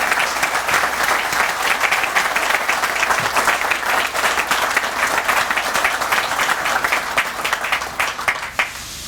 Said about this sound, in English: won't you guys give them a round of applause